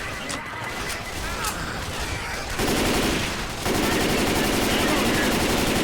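Gunfire in Left 4 Dead 2, a zombie shooter game, comes as continuous rapid automatic fire that grows louder partway through and keeps going to the end. It is mixed with other game sounds, and a faint voice is heard early on.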